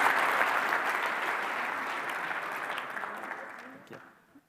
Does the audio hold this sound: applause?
yes